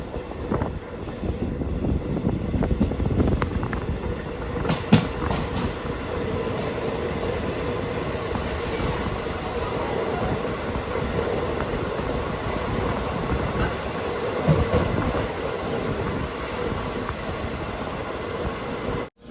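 The Mangaluru Express rolls into Vadakara railway station close by, a long continuous rumble with clanking and brief wheel squeals, steady and loud throughout.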